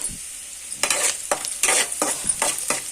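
Food frying in a pan with a sizzling hiss, broken by several bursts of stirring and scraping at a fairly even rhythm, close and clear.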